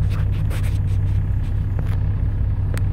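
Semi trucks idle in a queue while waiting to unload at a depot in Texarkana, Texas, giving a loud, continuous low diesel rumble with occasional faint scrapes and no talking.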